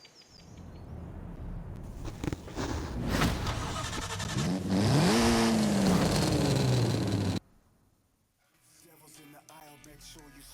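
A Mercedes 190E on the move, its engine running steady then rising in a revving pull with a shifting pitch before cutting to a quiet stretch with faint birds.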